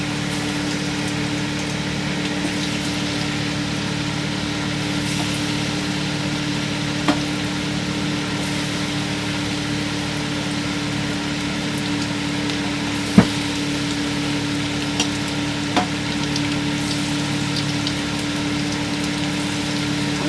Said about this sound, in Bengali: এবার আমি একটা একটা করে ছেড়ে দেবো তেলের মধ্যে